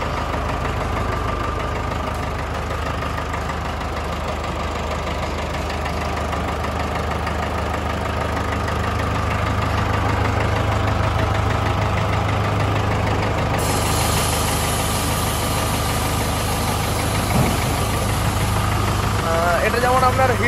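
A newly delivered vehicle, fitted with a hydraulic tipper body, runs its engine at idle. It makes a steady, smooth, continuous rumble that stays close and even for the whole stretch.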